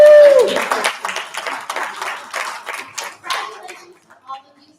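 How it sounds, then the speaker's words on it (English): A room full of people at a business road show applauds silver-rank members, giving a burst of scattered clapping that thins out and fades over a few seconds, with a brief voice at the start. "All of our silvers, please take a round of applause."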